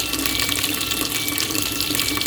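A fully automatic washing machine fills with water in a steady, continuous rushing hiss, close and even throughout with no voices.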